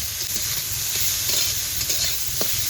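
Water lily stems stirred and fried with turmeric in a pan, a close steady sizzle with rhythmic scraping strokes of a spatula and a low rumble beneath.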